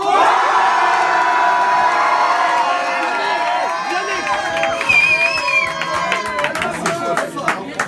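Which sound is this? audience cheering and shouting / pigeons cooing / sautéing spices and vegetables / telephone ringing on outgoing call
audience cheering and shouting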